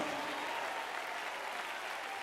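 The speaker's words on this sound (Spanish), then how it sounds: "Dale ese aplauso de gloria a Dios esta noche." Congregation applause during a church service, dense continuous clapping from many hands at a steady level, with no talking over it.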